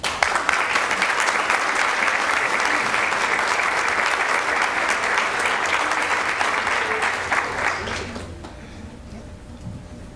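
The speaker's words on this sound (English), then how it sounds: "Let us give these talented students and their parents and dedicated advisors a round of applause." Sustained applause from a school board meeting audience for middle school students, parents and advisors, dense steady clapping for about eight seconds before fading out to quiet room tone.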